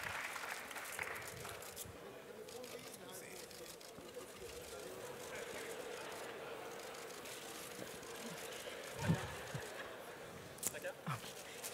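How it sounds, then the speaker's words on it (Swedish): An audience at the final of a Swedish chef-of-the-year cooking competition gives a steady round of applause that runs the whole time, fairly distant and continuous, with voices speaking over it. "Stor applåd"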